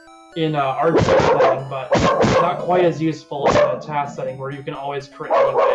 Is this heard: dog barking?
yes